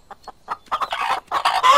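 Chickens cluck close by, starting with a few sparse clucks and building into a denser, louder run of squawky calls, with no talking.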